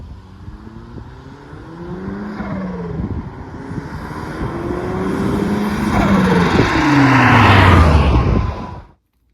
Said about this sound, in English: what you're hearing is surge, and that is terrible for the turbo